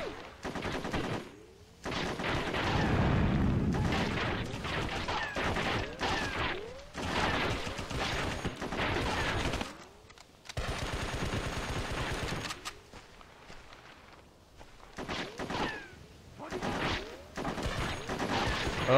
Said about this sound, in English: This is like the most realistic gunfire sounds ever